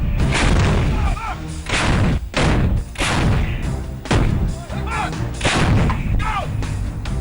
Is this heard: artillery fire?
yes